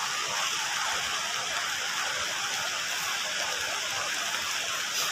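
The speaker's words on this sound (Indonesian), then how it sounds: "Dan ini saya hujan-hujanan ini" Rain falls steadily over a durian plantation with one-year-old trees during the rainy season, a dense, even hiss that holds close and constant throughout with no voices.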